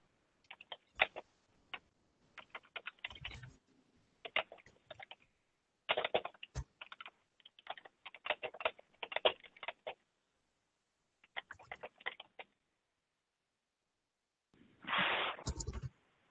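Fingers tap on a computer keyboard in irregular bursts of quick clicks separated by short pauses, close and clear in a quiet room, with one louder rustling thump near the end.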